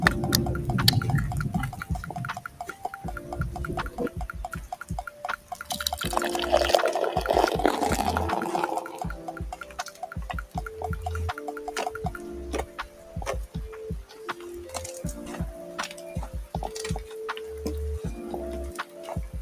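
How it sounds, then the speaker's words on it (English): Beer glugs and splashes loudly as it is poured aggressively, with a gurgling liquid rush and scattered ticking and dripping sounds continuing throughout. "That's what I call an aggressive pour."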